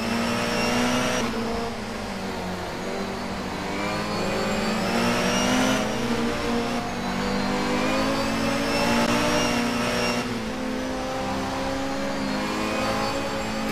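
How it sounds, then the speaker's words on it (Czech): A BMW touring car engine in the rFactor racing game, WTCC 2013 at Sachsenring, holds a steady loud drone with gently rising and falling revs under light throttle, alone with no talk. "Myslím, že to ten opatrný zvuk BMW."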